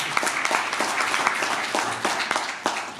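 Audience applause at a Hindi-language event, a dense, steady patter of many hands clapping throughout, fairly loud and close, with no talking over it.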